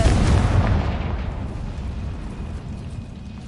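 Confringo blasting spell detonating in the video game Hogwarts Legacy: a single loud, booming explosion up close, followed by a rumbling, crackling decay that fades gradually over a few seconds, with no talking.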